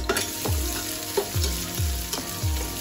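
Finely chopped onion fries in hot oil for rice, a bright continuous sizzle with a few rhythmic stirring strokes scraping the pan, close and fairly loud, with no voices.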